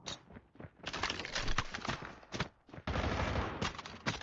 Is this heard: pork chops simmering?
no